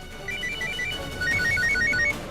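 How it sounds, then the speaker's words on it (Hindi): A phone ringtone chimes in two short melodic bursts of bright electronic notes. The bursts are moderately loud, with quiet background and no talk over them. "आ गया ना फोन,"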